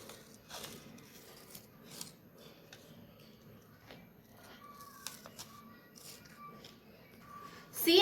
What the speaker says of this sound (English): fold it into half and till the half, cut it with the scissors like stripes.